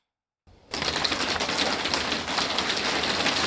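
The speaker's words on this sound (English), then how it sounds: "And there was the rain." Spring rain comes on suddenly after brief silence, then a dense, steady patter of drops on a surface, close and fairly loud, continuing without talk.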